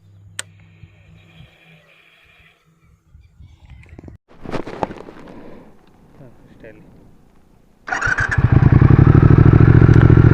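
Triumph Speed Twin 1200 motorcycle engine bursting into life after quieter handling noises, its twin-cylinder exhaust settling into a loud, steady, throbbing idle close by over the final seconds.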